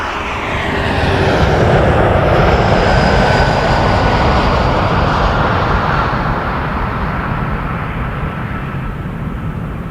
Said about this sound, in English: Love that engine sound of this RJ.